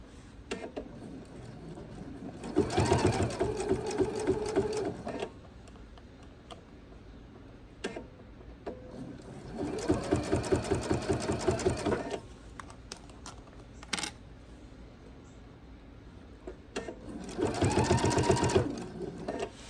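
A sewing machine stitches a fabric binding in three separate bursts of steady, rapid mechanical whirring, each about two to three seconds long, with quiet pauses between them and no talking.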